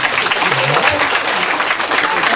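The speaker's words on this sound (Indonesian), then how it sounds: "tepuk tangan" Applause from an audience at a Balinese Calonarang performance in Buleleng, a dense, steady wash of clapping heard close and fairly loud throughout, with some voices mixed in.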